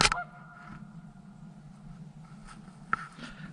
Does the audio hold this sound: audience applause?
no